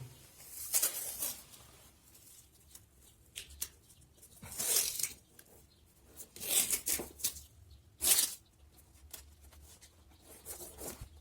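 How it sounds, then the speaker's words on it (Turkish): Protective masking tape ripped off the roll in several sharp, crackling bursts and pressed down along tile edges before painting, close and fairly quiet, with soft handling noises between tears. "Öncelikle bu koruma bandıyla sınır bölgeleri bantlayacağım ki boyanmasını istemediğim yer olsun."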